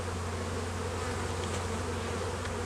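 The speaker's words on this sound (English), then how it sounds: "the queen is somewhere in this brood box" Steady, dense buzzing of many honey bees swarming close by an open hive's brood box, a continuous droning hum with no pauses.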